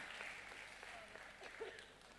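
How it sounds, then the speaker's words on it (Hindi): Audience at a literature festival in Banaras breaks into steady, faint applause, a soft continuous wash of clapping heard from a distance with a few brief voices mixed in. "थोड़े लोग तालियां बजाकर मुझे आदेशित करें।"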